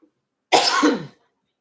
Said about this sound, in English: excuse me, because I have to cough